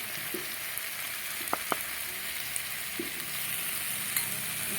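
Pointed gourd and potato curry sautéing in a pan with turmeric, a steady close sizzle of frying oil with a few sharp spoon taps against the pan.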